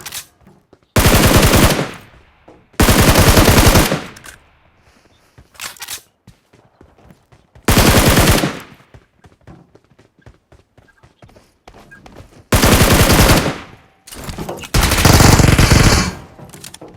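Automatic gunfire in the mobile battle royale game BGMI, several loud rapid bursts of one to two seconds each separated by quieter gaps with faint footsteps and game ambience.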